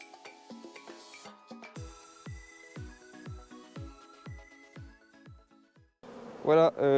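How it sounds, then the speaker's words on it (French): Honeybees crowd a wintering colony in a swarm-trap hive, heard as a close, dense buzzing hum that swells loudly for about the last second after several seconds of plucked melodic music. "Voilà, les abeilles dans la ruche. Vous voyez qu'il y a du monde, il y a du monde."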